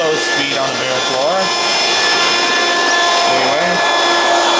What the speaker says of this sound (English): Use this vacuum on high speed most of the time, but you can use it on high or low speed on a bare floor.